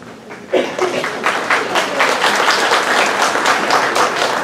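An audience at a school STEM students-of-the-month ceremony claps for a grade level, a quieter start that swells at once into steady, close, brisk applause carrying on evenly to the end.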